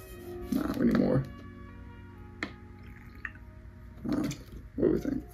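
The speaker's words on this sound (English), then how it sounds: "Let's get some water in this thing." Water is poured into a glass bong in short splashing, gurgling bursts, with quieter stretches and faint clinks between them.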